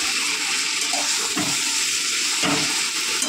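Onions and chopped taro leaves frying in a pan, a loud continuous close sizzle with a couple of brief louder bursts, likely from stirring.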